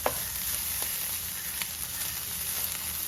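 Washed dry fish fries in a pan for Kerala-style dry fish chammanthi, giving a loud, steady, close sizzle with faint stirring ticks and no voices.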